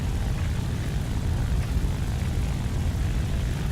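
Steady propeller engine drone of a Ki-84 Hayate fighter plane climbing in the War Thunder video game, a continuous low rumble holding even throughout with no talk.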